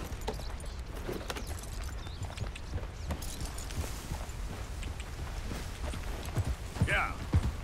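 A horse's hooves beat a steady, rapid clip-clop while riding in the video game Red Dead Redemption 2, set against a continuous rumbling outdoor background.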